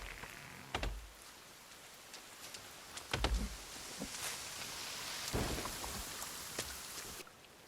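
Steady rain pours in the survival game The Forest, a continuous hiss that runs throughout, with several low thunder-like rumbles and sharp cracks rising above it at intervals.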